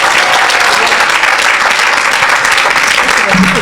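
A church congregation applauding, a dense, steady wash of many hands clapping throughout, loud and close, with faint voices mixed into the crowd.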